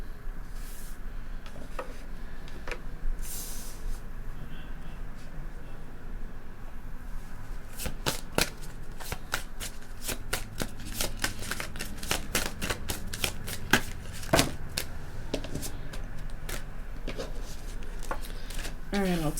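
Tarot cards being shuffled close up in a quiet room, a run of quick papery riffles and taps clustered in the second half, with faint background hiss.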